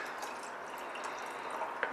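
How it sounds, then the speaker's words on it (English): Cold brew coffee poured into a container at home, a steady soft liquid splash running continuously with a small drip near the end, fairly quiet. "I will pour it in here"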